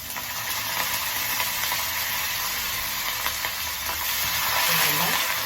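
Cashews and curry leaves sauté in a pan, giving a steady, loud sizzle and hiss with faint stirring scrapes throughout.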